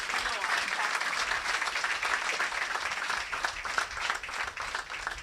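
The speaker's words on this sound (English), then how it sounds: "He deserves another round of applause." Sustained audience applause after a lecture, a steady wash of many hands clapping throughout with a few voices and cheers mixed in.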